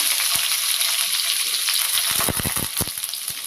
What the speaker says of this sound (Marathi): इथे कांदा चिरून घेतलाय आणि 2 ते 3 हिरव्या मिरच्या आहेत त्या पण घातल्या.